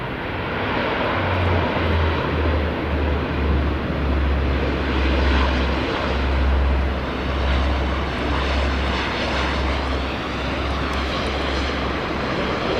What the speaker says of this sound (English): Loganair's Saab 340 freighter arriving from the islands